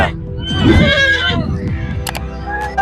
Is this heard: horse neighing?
yes